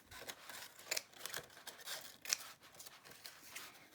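Scissors snip through a strip of green crepe paper in a quick run of soft crisp cuts with a few sharper metallic clicks, faint and close, no talking.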